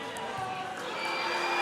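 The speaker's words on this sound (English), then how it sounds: "The Piper players on the end of the bench are having a good time. Boy, they're cheering." Boys' basketball game crowd noise with players on the bench cheering, a steady broad roar of shouting voices filling the gym, holding level and swelling slightly toward the end.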